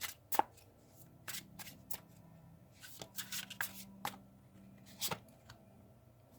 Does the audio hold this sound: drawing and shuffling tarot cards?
yes